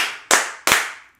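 Two sharp hand claps, evenly spaced and loud and close, each cracking out and ringing briefly into a quiet room before a soccer podcast recording begins.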